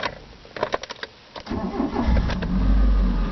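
A 1995 Mitsubishi FTO GS with a manual gearbox cranks over with a few sharp starter clicks, then fires and settles into a loud, steady idle close by.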